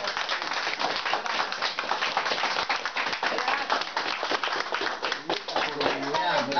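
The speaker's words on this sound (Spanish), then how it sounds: "Creo que nos debemos un aplauso cada uno de nosotros" Family members at a reunion clap together, a dense, continuous patter of hands at moderate loudness, with voices mixed in beneath the applause.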